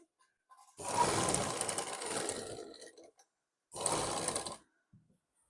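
Domestic sewing machine stitching down the folded slit on a lined kurti, a long steady run of fast stitching followed by a shorter burst after a pause, close and clear with no talking.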